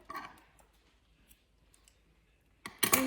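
Scissors cut knitting yarn from a Christmas stocking, a soft snip near the start and then a sharper, louder close-up cutting sound at the end, with quiet pauses between.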